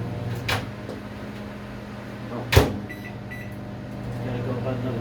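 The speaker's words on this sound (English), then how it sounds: "let me get that out of the microwave" A microwave oven door pops open with a single sharp click over a low, steady hum, followed by a few faint beeps.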